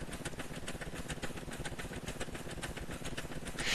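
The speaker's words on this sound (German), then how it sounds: "Dann hört man den Motor im Leerlauf" Engine of a Porsche idling in the sandbox game Scrap Mechanic, a steady dense mechanical drone with fast pulsing, continuous and fairly loud with no speech over it.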